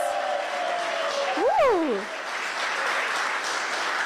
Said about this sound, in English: if I can get my live studio audience to give us a big round of applause